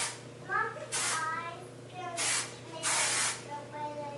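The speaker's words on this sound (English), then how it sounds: "I like to spray obviously the top, but I also like to spray kind of my curls in just lightly" Several short hissing bursts of hairspray from an aerosol can sprayed onto hair, close by, interspersed with a voice talking softly.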